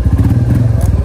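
A motorcycle engine runs close by right after being repaired on a mountain ride in Nepal, a loud, rapid low chugging idle throughout the short moment.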